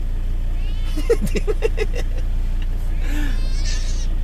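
A cat meows in a short series of close, repeated cries, then gives a softer call later over a steady low background hum, with no talk.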